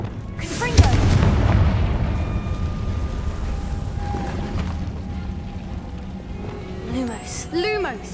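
A Confringo fire blast spell in Hogwarts Legacy lands as one sharp, loud boom near the start, then a long rumbling tail, with game sounds and voices around it.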